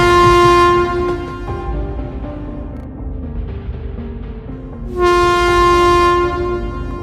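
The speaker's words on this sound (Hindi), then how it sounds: "ये लोग बातें कर ही रहे थे कि तभी अचानक ट्रेन रुक जाती है।" A train suddenly stopping, its loud sustained horn blaring at the start, fading under rumbling rail noise and braking, then sounding again strongly near the end.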